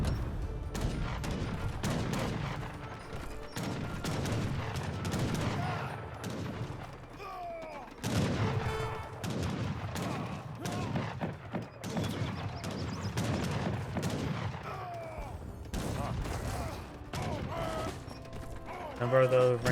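Heavy cannons fire during an Age of Empires 3 battle, a dense barrage of repeated booming shots and mechanical clatter that runs continuously through the whole stretch, with battle noise layered throughout.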